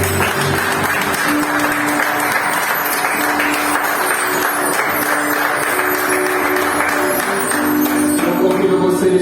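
A church congregation claps together during an evening worship service, a dense, steady wash of applause lasting throughout, with some musical tones and voices underneath.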